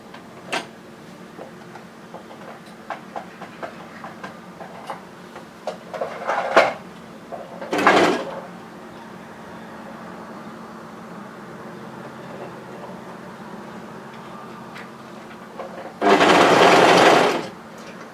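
A serger overlock sewing machine stitching the folded edge of a balaclava hood, heard as a loud sustained whirring run near the end, with brief shorter bursts earlier over quiet room tone.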